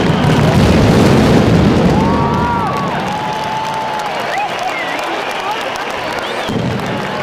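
Firecracker barrage at the Fallas festival in Valencia, with a huge crowd cheering. The roar is loud, dense and continuous, with no separate bangs, and thins slightly toward the end.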